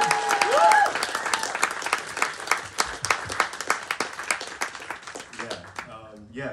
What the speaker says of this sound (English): can we have another round of applause for David Hobbs and Teachers Lounge?